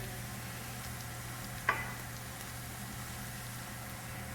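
Warm clarified butter in a pan gives a faint, steady sizzle close by, with one brief sharp clink partway through and no talking.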